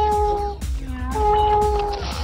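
A cat meows in two drawn-out, tonal cries close by, each lasting about half a second with a brief gap between.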